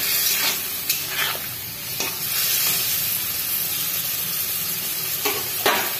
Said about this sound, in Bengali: সামান্য জল দিয়ে দিই। মশলাটা যাতে লেগে না পড়ে।